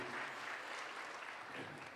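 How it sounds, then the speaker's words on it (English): Faint applause from an audience at a mayor's education awards, honoring students from Belmont Hills Elementary, an even wash of clapping throughout. "give them a big round of applause"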